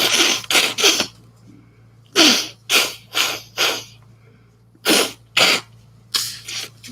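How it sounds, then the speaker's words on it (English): A rapid series of sharp sneezes comes in quick bursts, three, then four, then several more, loud and close, with quiet pauses between. "I might sneeze 20 times, and then I'm done."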